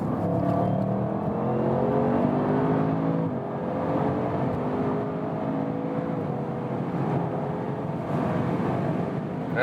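A 2020 Audi RS7 Sportback V8 with the optional sports exhaust accelerates hard, its engine note climbing through the gears in a loud, continuous roar with rising tones and a brief dip at a shift, heard from inside the car.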